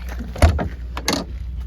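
A 1998 Land Rover Defender 110's rear door clunks and unlatches, with a short metallic rattle followed by a second thump as it swings open, fairly close.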